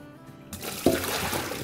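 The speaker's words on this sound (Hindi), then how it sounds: "ये वाला जो है पानी, इसमें कुछ भी नहीं है, तो इसको अब हम फेंक देंगे" Water sloshes and splashes as it is tipped out of a cooking pot in a home kitchen, starting after a quiet moment with a sudden gush that continues as a steady pour.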